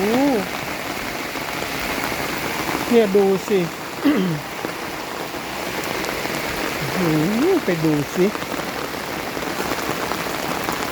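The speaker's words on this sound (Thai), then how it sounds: "วันนี้ฝนตก ตั้งแต่ประมาณ 11นาฬิกานะ" Heavy storm rain pours steadily in a dark, overcast setting, with floodwater rushing strongly toward a drain; someone speaks intermittently over the constant wash.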